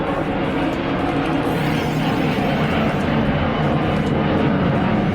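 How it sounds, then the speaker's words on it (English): A loud fixed-wing airplane passes low over a house, its engine roar a steady broadband rumble throughout without fading. "Oh, airplane, everybody."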